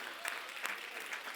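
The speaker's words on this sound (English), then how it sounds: "Let's give Jonathan Mello a round of applause." Brief applause for a speaker at a real estate event, a short burst of dense clapping from a nearby audience.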